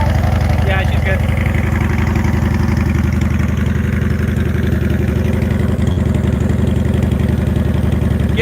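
Yamaha Warrior 1700 muscle cruiser motorcycle with its big engine idling steadily nearby, a low rhythmic throb with slight throttle blips, while people talk over it.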